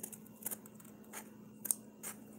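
Scissors snip through paper while tiny keepsake Christmas card boxes are made: several short, crisp cuts spaced irregularly over a quiet room background.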